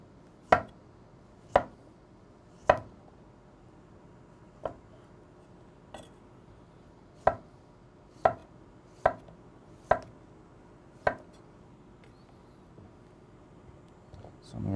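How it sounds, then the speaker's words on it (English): A sharp knife slices through cooked beets on a board, about a dozen crisp, evenly spaced cuts ringing out close and clear against a quiet kitchen background. "We're going to slice them. My sharp knife works better."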